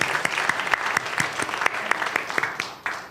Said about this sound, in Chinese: 我们也一起拍手来欢迎他们